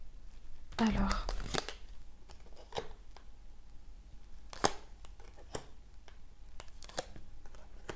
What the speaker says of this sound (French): On va aller voir maintenant ce qu'il y a dans l'enveloppe